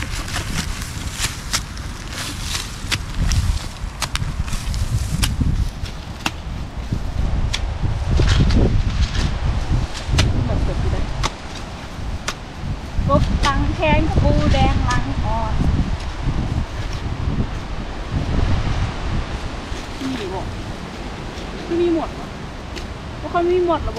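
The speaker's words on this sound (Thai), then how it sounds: "ลมแฮง ลมแฮง" Strong wind rushes through a forest in gusting waves, a broad, loud rustling roar with leaves shaking, while people talk intermittently nearby.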